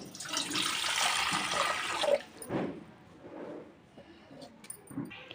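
Water pours steadily into a bowl set on a stovetop for about two seconds, followed by a few softer splashes and light clinks that fade into quiet kitchen sounds.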